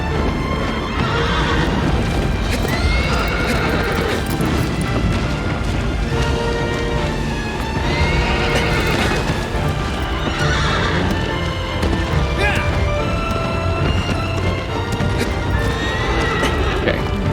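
Horse hooves clip-clop steadily while a horse whinnies several times, loud and close, over a constant background, in the video game Shadow of the Colossus.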